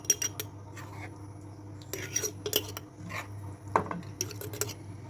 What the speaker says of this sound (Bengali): আচারগুলা বয়ামে উঠায় রাখছি।